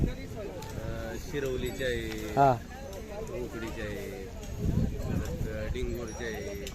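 Bullock carts from several villages roll along together in a devotees' procession to Jejuri, with hooves clip-clopping and wheels rattling under constant nearby chatter and calls from people.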